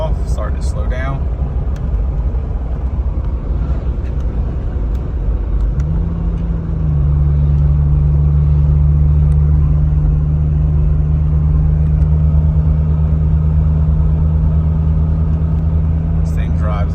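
A 1998 two-door Jeep Cherokee XJ with 83K miles cruises steadily, its engine and road rumble loud and continuous, shifting to a lower steady drone as it coasts and slows; voices talk over it.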